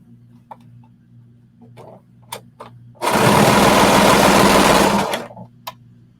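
A serger runs in one loud continuous burst of about two seconds, joining lining, main and skirt fabric pieces, with a few soft handling clicks and taps before and after.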